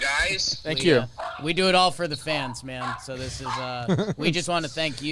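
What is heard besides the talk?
dog barking in the background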